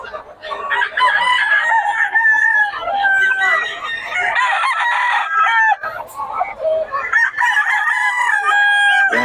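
Several roosters and chickens crow loudly and repeatedly at a gamefowl sale in Bocaue, with overlapping calls filling the scene and faint voices in the background.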